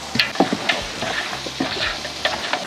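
Chilli and onion fry in a pan, sizzling steadily while a utensil stirs and scrapes in irregular, close-up strokes, with no talking.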